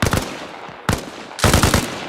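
Automatic gunfire crackles in three loud, close bursts with short gaps between them, from a US Army 101st Air Assault platoon training exercise.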